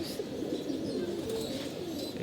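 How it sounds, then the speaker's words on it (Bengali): Pigeons at a house give low, soft cooing calls in repeated rolling phrases, moderately close, over steady background noise. "আজকে একটা গড়া কবুতর এসছে আমাদের বাসায়"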